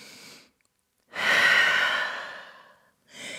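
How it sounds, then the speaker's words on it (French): A deep, slow exhalation in a yoga class, a long breath of about two seconds, loud and close, framed by shorter breaths before and after, with no talking. "Grande respiration ici."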